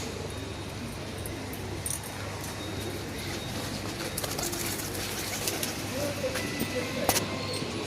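Pigeons, a male and a female, cooing in a low continuous murmur at close range in hot afternoon conditions, with someone talking intermittently over the birds.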